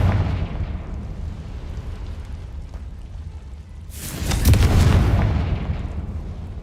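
Confringo spell in the Hogwarts Legacy video game sets off a loud burst-like explosion, a sudden booming blast with a lingering rumble, standing alone after a quieter stretch of game ambience.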